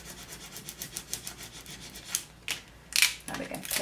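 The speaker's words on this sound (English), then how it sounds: "I'm going to rub that across the snowflake really well." A credit card scrapes back and forth across a vinyl snowflake decal, a run of rhythmic close rasping strokes followed by a few louder, irregular rubs.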